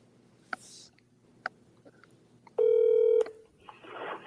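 A phone call dialed on speakerphone from a computer: a few faint clicks, then a loud, steady dial tone of about a second, followed by muffled noise, close and clear.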